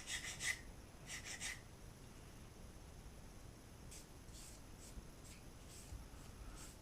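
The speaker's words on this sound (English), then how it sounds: "I think I've done as much as I want now with the coarse sandpaper." Coarse sandpaper is rubbed over a wooden pencil lure in short grouped strokes, giving faint, close scratchy rasps in bursts with pauses between them and no speech.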